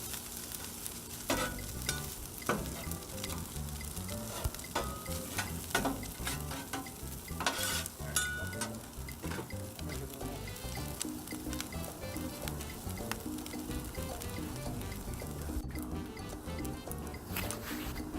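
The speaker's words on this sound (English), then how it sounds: "So we're cutting it up now, spreading it around, trying to make it so we can spread it on the sandwich nice and evenly." Chopped pork sizzles and fries on a Blackstone griddle as a spatula scrapes and taps it, spreading it around in a busy, continuous clatter over a loud hiss.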